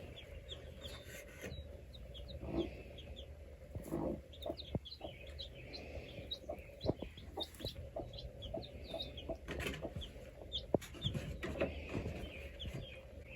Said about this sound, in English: She's kind of clucking at him.